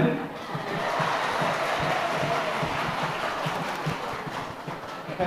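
An audience at an orientation programme claps in dense, steady applause that fills the room for several seconds at a fairly even, close loudness.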